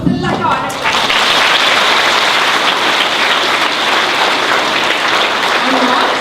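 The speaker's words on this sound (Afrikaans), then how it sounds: "Dit kan ons 'n lekker hande klap." A group of children at a primary school claps hands in steady, loud applause that fills the whole stretch, with a few voices talking at the start.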